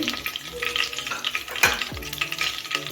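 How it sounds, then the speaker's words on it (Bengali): Whole spices of white cumin, cardamom, cinnamon, cloves and bay leaf sizzle in hot oil, a steady close crackle with a few sharp stirring scrapes from a spoon in the pan, no voices. "এখন ফোড়নটা একটু ভেজে নেব"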